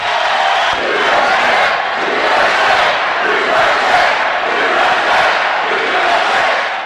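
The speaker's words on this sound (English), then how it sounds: "The line gets Trump's longest cheer of the evening." A large crowd at a 2015 Donald Trump campaign rally roars and cheers continuously, loud and sustained, with shouts rising and falling across the noise.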